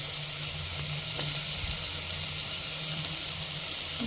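Food sautéing in a pan at home, a soft, steady, even sizzle with faint occasional stirring, fairly quiet and continuous with no voices.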